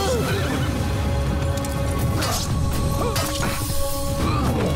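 A horse whinnies repeatedly amid a busy clash of thuds and hoofbeats, with shouting voices mixed into the chaotic soundscape of the video game Assassin's Creed.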